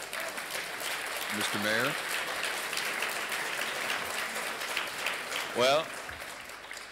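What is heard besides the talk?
audience applauding at a forum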